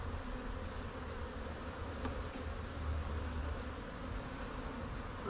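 A swarm rescued from a bee tree drones in a constant, close buzzing as its hive box is opened and cleaned, the sound staying steady with no speech.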